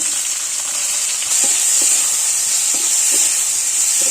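Eggplant and potato fry with spices in a pan, a loud, steady hiss of sizzling oil with soft scraping stir strokes underneath and no talking.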